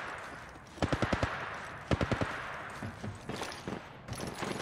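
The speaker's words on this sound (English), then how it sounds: "Shots fired at me." Gunfire in the mobile battle royale game Apex Legends Mobile: two close, loud bursts of rapid automatic shots, each about half a second long, followed by scattered fainter shots and clatter.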